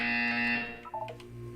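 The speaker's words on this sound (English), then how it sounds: "You will hear a buzzer." A loud, harsh electronic buzzer from the video game Portal 2 sounds steadily for about half a second and then cuts off, followed by a few softer game tones.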